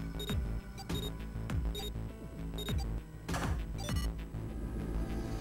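Repeated electronic alarm beeps in the video game 999, sharp tones recurring roughly once a second over a low hum of music and ambience.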